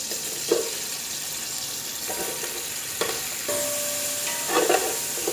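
Chicken pieces fry in a pan with lemon, giving a steady sizzle with a few soft scrapes and clatters over about five seconds, no voices.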